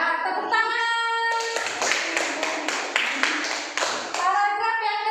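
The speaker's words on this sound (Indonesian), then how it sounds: "Ya, tepuk tangan." Schoolchildren in an Indonesian classroom clap their hands in a quick, rhythmic run of sharp claps lasting about three seconds. Voices are heard just before and right after the clapping.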